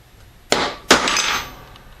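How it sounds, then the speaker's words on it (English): A hammer strikes a Starrett No. 18C automatic center punch twice, about half a second apart. Each hit is a loud, close, sharp metallic crack with a short ringing decay, and no one speaks. "So I go over the automatic, give her a good whacking with the hammer."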